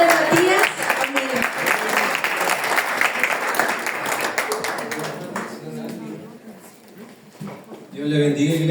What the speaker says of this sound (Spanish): Damos un aplauso al Señor por la vida de Matías